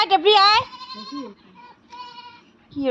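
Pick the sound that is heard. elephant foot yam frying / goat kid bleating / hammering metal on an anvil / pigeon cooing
goat kid bleating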